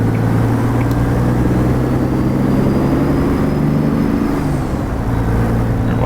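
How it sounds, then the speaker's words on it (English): A Caterpillar engine in an International 9800i truck in American Truck Simulator, hauling hay, drones in a loud, steady, deep hum with no break. "Man, love the sound of that cat engine."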